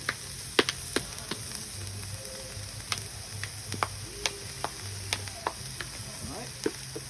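Garlic sizzles softly on a hot griddle, a quiet, steady frying hiss dotted with small crackling pops and ticks, heard alone without talk.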